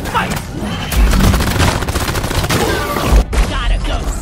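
Sustained automatic gunfire blasts away at an alien swarm in the video game Deep Rock Galactic, a dense, loud barrage of rapid shots with heavy booms, continuous throughout with a brief gap near the end.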